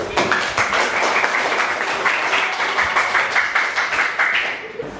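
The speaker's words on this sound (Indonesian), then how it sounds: "Aplaus." Applause from a classroom audience during a teaching session: dense, steady clapping fills the whole stretch at an even, fairly loud level before it fades at the very end.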